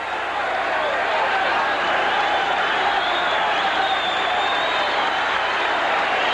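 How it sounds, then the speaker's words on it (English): A large boxing crowd at Hiram Bithorn Stadium roars continuously between rounds, a dense, loud wash of cheering with no break. "And listen to that crowd here at Hiram Bithorn Stadium"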